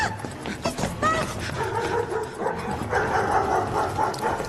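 Several dogs bark and yip excitedly in a film chase scene inside a building, with rapid overlapping barks and whimpers close by, mixed with shouting voices and background commotion.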